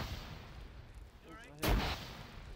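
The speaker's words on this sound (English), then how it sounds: "We're fragging now." A single frag grenade goes off at a distance during a realism-unit field training exercise, one sharp broad burst after a quieter stretch of background noise and faint radio-style talk.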